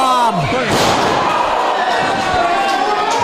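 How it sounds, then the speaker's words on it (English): A professional wrestler is body slammed onto the ring mat during an independent wrestling match: a sharp, loud impact thud followed by crowd noise and ringing reverberation in the arena, with an announcer's voice in the background. "He picked up Haram for a body slam with great ease"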